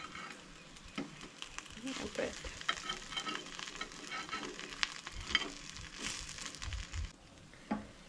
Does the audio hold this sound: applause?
no